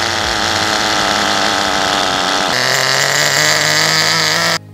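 A nitro-powered RC model engine runs loud and steady at idle, its buzzing drone shifting pitch partway through before cutting off abruptly at the end.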